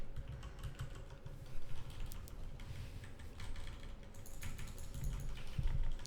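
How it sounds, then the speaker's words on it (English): Rapid computer keyboard typing and clicking while working at a desk, steady bursts of close, crisp keystrokes continuing for several seconds over a low background hum. "Sorry about the clicking, guys."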